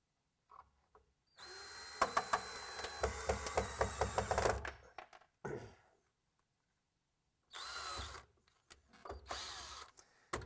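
A power drill drives screws into wooden wall studs, a loud whirring burst of about three seconds followed by shorter drilling bursts with quiet gaps between, close by and without talk.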